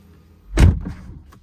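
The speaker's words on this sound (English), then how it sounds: "Solid sound of that door close." A single solid thunk as an Aston Martin DB11 car door shuts close by, followed by a short muffled settling sound.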